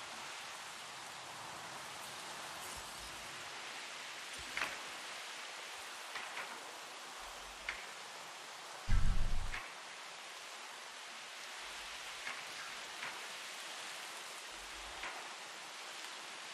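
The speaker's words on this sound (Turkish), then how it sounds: "Yağmur yağıyor zaten." Steady rain falls in the Jurassic World Evolution dinosaur park game, a dense, even hiss that continues throughout, with a few soft low thumps standing out briefly.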